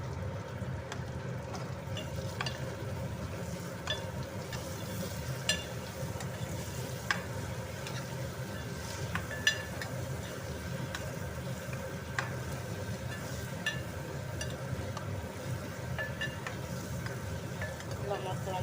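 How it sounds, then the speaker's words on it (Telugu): Amla pieces being stirred through bubbling sugar syrup in a pan, a steady soft sizzle and simmer with occasional scrape clicks from the spoon, continuous and fairly quiet, with faint voices now and then. "ఇట్లా మొత్తం అన్నిటినీ పాకంతో కలుపుకుంటూ ఉండాలి"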